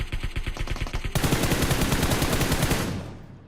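Rapid automatic gunfire in the PUBG Mobile battle royale game: a fast rhythmic burst of shots, then denser overlapping fire for about two seconds before cutting off, loud and without talk.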